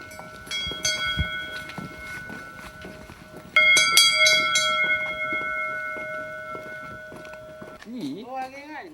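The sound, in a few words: tofu seller ringing a hand bell through the neighborhood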